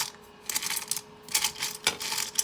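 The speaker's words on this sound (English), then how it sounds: "If you've got headphones on, I still apologise about the rattling" Small plastic model kit parts rattle and click in quick, irregular bursts, close and fairly faint, with no talking.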